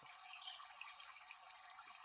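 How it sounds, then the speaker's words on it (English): Water flows and trickles steadily near an outdoor fire, with light splashing and dripping details over a soft continuous wash, fairly quiet and with no voices. "listen to the water"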